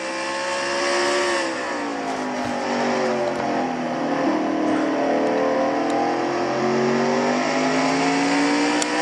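A Castrol GTX Cup race car's engine revs hard and steadily at high RPM, its harmonics rising and dipping as it turns through the race, loud and close with a continuous roar.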